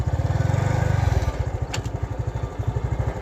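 A stuck farm vehicle's engine chugs loudly and close, a steady low mechanical pulse that shifts to a slower, uneven rhythm partway through, with a brief metallic clank.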